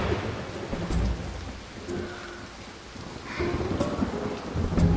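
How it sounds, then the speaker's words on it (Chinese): A nighttime thunderstorm with heavy rain pours steadily, rolling thunder rumbling through it and gusts of wind, all loud and close with no voices. "电闪雷鸣。"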